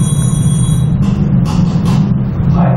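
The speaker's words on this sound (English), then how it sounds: "it's basically a mixture of various sounds recorded mostly at the engineering building and computer science buildings of Queen Mary" Ambient sound mixture recorded in university engineering and computer science buildings: a constant low rumble fills the space while several brief, faint hissing and clattering noises rise and fade over it.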